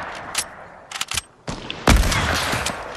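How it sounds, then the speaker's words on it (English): Rapid bursts of Fortnite gunfire crackle close and loud, first as scattered single shots, then a dense sustained volley with a heavy boom. "I keep shooting"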